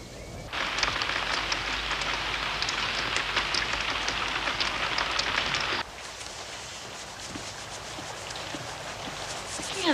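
Steady rain falls heavily for about six seconds as a dense hiss, then drops to a lighter, quieter patter for the remainder, with no voices.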